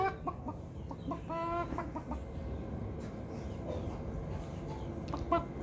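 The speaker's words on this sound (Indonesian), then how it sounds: "Dan di sini di sebelah sana ada si ayam jago." Chickens cluck repeatedly in short bursts at moderate distance, with a rooster's clucking calls over a steady background hum.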